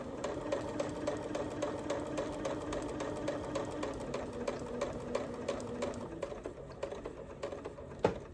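Sewing machine stitching a seam on a beginner zipper coin purse, a rapid regular tapping rattle close by for about six seconds, then slowing to a few scattered clicks and a sharp knock at the end.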